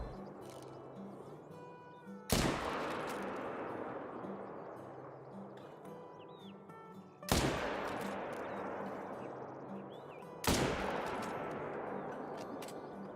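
Three loud rifle shots ring out at deer in the Call of the Wild hunting video game, each a sharp crack followed by a long rolling echo, spaced a few seconds apart over faint ambient background.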